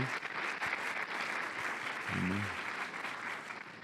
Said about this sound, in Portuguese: Você pode dar uma salva de palmas para eles.